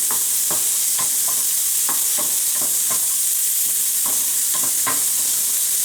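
Capicollo fries in a pan with a constant bright sizzle, while a utensil repeatedly stirs and scrapes through it in a steady rhythm of roughly two strokes per second.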